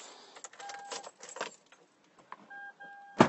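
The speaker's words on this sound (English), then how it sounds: "I'm going to have to turn on the car and the AC in here" Car keys jangle in a quiet car interior with small clicks and rattles, followed near the end by a brief louder mechanical burst like an ignition turning over.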